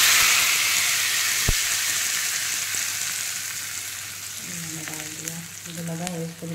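A hot tempering poured into coconut chutney meant for idli and dosa gives a loud, close sizzle that slowly fades. Faint tonal sounds rise near the end.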